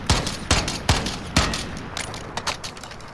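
A Starlight M14 semi-automatic rifle fires while aiming down sights in Modern Warfare: four loud, sharp shots in a steady rhythm, followed by several quieter reports and a lingering echo.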